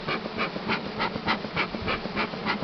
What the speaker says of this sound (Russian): С краю пчел подгоняю дымом.